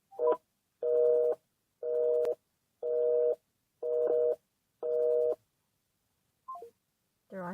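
A telephone busy signal plays close and clear as six evenly spaced, loud tone bursts. A couple of short, fainter tones follow after a pause.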